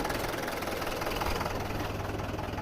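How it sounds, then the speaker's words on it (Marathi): A farm tractor loaded with urea fertilizer idles nearby with a low, steady diesel chug and a faint knocking rhythm. The rumble is continuous and moderately loud, and no voices are heard over it. "आता आम्हाला जायचंय ट्रॅक्टर घेऊन"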